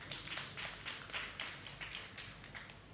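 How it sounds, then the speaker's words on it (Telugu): An audience at a church sermon claps together, a steady dense patter of many hands held at moderate loudness for a few seconds with no talking over it. "చప్పట్లు కొట్టండి"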